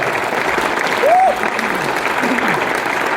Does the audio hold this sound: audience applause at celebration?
yes